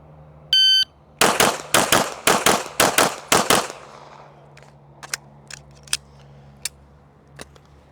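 Glock pistol firing a fast string of about eight sharp, loud shots in even rhythm, preceded by a short electronic beep from a shot timer and followed by fainter distant gunfire from other shooters.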